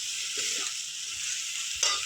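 Okra sizzling in a pan while being stirred, a steady hiss broken by two short scrapes of the spoon, close and alone.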